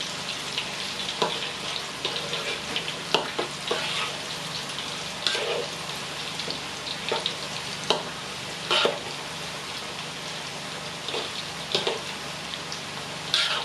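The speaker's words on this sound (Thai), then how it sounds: "น้ำมันเริ่มร้อนใส่กล้วยลงไป ใส่ครั้งนึงต้องใส่เยอะนะคะ เดี๋ยวจะไม่กรอบ จากนั้นใช้ตะหลิวนะคะเกลี่ยแบบนี้" Sliced bananas crackle and sizzle steadily in hot frying oil, with intermittent scrapes and taps as a spatula spreads them across the pan. The sound is close and continuous.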